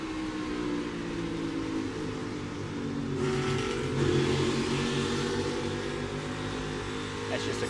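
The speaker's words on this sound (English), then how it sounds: "You can hear him on the brakes, off the gas" Heard onboard a NASCAR Cup Series car during a race, the engine drones, then roars up as the driver comes off the brakes and accelerates hard. A commentator talks over the engine noise.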